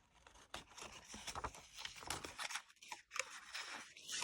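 Scissors cut through planner paper in a quick run of crisp snips and slicing rustles, close and quiet, with no talking.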